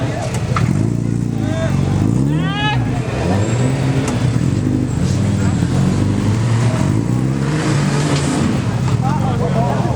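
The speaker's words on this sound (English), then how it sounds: "Dan Patterson trying to get that rig to work on this uphill climb" An off-road rig's engine revs and strains while climbing a steep uphill section of a stock-class rock crawling competition, loud and sustained with rising and falling pitch, and voices are faintly mixed in beneath it.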